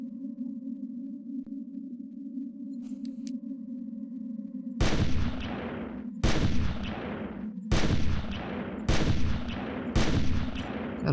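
Gunfire in the video game Carnivores+: five loud, booming shots spaced about a second and a half apart, each with a long decaying tail, following several seconds of a steady low ambient hum.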